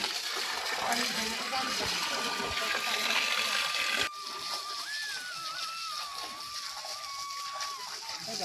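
Water released into a rice paddy splashes and sloshes steadily as it floods the field, a continuous watery rush with a voice talking over it.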